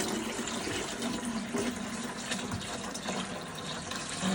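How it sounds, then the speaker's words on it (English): Water is poured into the reservoir of a Lifewave X20 light-infused water machine, a steady close rushing and gurgling fill that runs continuously without talk. "So I'm going to go ahead and add the water."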